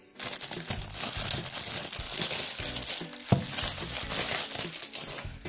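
Plastic packaging around a set of toothbrushes, wrapped with extra branded tape, being torn open: continuous close crinkling and crackling with sharp rips and one loud snap, and no voices.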